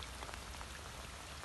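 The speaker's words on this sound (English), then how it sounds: "And then we get rain like this on top of" Heavy rain pours down steadily onto a flooded falconry centre car park, a dense, even hiss of countless drops with no pauses and no voices.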